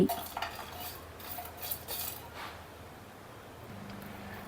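Whole spices (cloves, black peppercorns, fennel seeds, mace, cinnamon and nutmeg) being dry roasted in a pan for masala tea powder, with soft scraping and stirring strokes early on fading to a quiet, low background.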